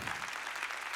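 Sustained clapping from a church audience, a broad, even roar of many hands that carries on without pause or speech.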